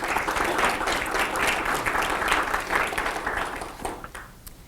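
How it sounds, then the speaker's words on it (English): An audience at an all-campus meeting claps together in steady, moderately loud applause that tapers off toward the end. "Please give them a round of applause."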